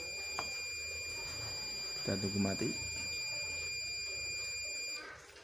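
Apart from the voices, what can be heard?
IoT gas leak alarm buzzer sounding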